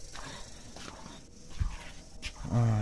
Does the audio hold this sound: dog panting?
yes